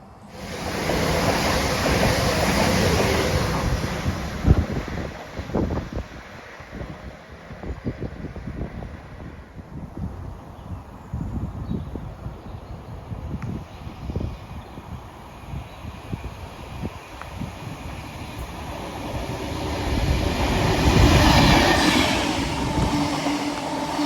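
A train rumbles through a station on the Chiltern Main Line between Banbury and Princes Risborough, England, a long, loud rolling clatter with a high steady whine overhead, swelling again near the end.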